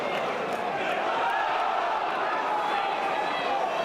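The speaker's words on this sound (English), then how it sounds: "The whole crowd was trying to tell Joe Rankin Costello that he had a man on him there." A stadium crowd at a Championship football match between Blackburn Rovers and Swansea City roars and shouts continuously in a broad, distant wash of voices, with commentary underneath.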